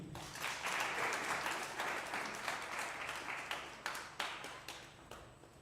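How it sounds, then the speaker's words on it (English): An audience at a World Robot Olympiad awards ceremony in Zimbabwe applauds, a dense sustained round of clapping that thins into scattered individual claps as it fades. "Another round of applause, ladies and gentlemen."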